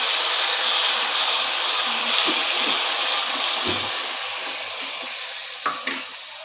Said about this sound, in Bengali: এবার যে মশলাগুলো করে রেখেছি সেই মশলাটা আমি তেলের ওপর ছেড়ে দিচ্ছি।